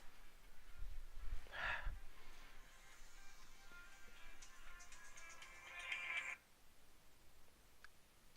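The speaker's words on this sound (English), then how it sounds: "That was my phone ringing." A mobile phone rings faintly in a quiet room, a thin electronic tone holding for a few seconds and then cutting off, preceded by a soft breathy noise.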